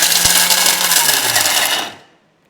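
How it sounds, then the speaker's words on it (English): A Thermomix running its turbo function chops nuts and chocolate chips with a loud, dense whirring roar that winds down and stops near the end. Rattling of hard pieces sounds through it. "use the turbo function to chop up our nuts and chocolate chip. It's going to be loud again"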